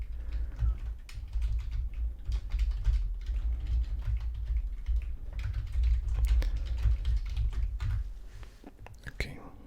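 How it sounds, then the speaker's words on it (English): Soft keyboard typing, quick irregular clicks and taps close by during a slow-paced chess session, running under quiet whispered speech throughout. "Do you like typing sound, guys? Because there's some typing sound here."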